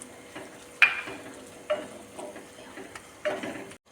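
Sautéed onions in a hot pan as turmeric powder is added, a low steady sizzle broken by three or four distinct stirring clacks of a spoon against the pan, close and alone without talk.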